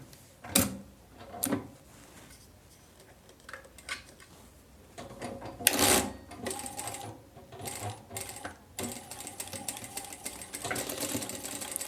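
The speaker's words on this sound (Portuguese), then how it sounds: "você precisa agora costurar aqui na máquina reta, pegando sobre a costura da overlock" A straight-stitch sewing machine runs in short bursts over bias binding on a women's pajama, with scattered clicks and handling knocks between stitching runs and a steadier whirring spell near the end.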